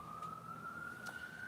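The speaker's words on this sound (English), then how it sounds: "That is a fire truck." A fire truck siren wails faintly in the distance with a steady, slowly rising tone under a low hum of outdoor background noise.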